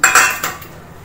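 Dishes and a lunch box washed by hand, giving a few quick clinks and knocks of utensils and containers close by, loudest in the first half second and then fading, with no voices.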